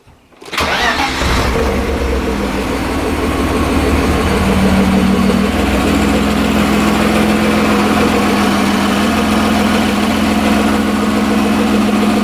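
A BMW-engined Toyota Corolla drift car cranks over and fires up within the first second, then settles into a steady, loud, close idle that runs without interruption, with no talking.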